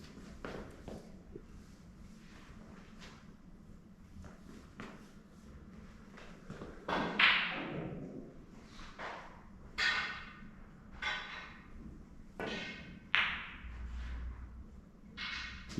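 Snooker cue striking balls on a long pot into the left middle pocket during a pink spot practice session: a few sharp, moderately quiet clicks spaced several seconds apart over a faint room hum, with no talking.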